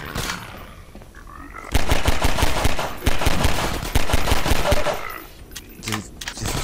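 Weapon fire in Half-Life 2 Episode One, loud rapid bursts of shots in quick clusters, with pauses between volleys and a fainter stretch before the shooting starts.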